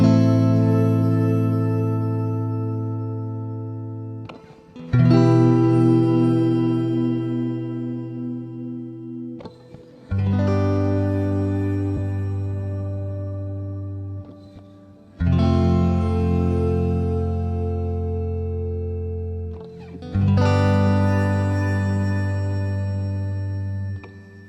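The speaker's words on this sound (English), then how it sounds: "Remember me talking about metallic sounding shimmer reverbs? Well, here's one that sounds extremely metallic" The Stellr shimmer reverb plugin on iOS produces an extremely metallic, bright wash of sustained tones, with chords struck every five seconds or so and each one ringing out and decaying slowly, no voices present.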